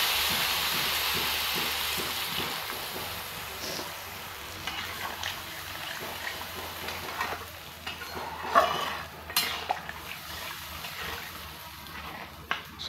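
Vegetables frying in a home kitchen pan get water poured in, a steady low sizzle and bubbling with occasional stirring scrapes and a louder splash-like burst midway, close and moderately loud throughout.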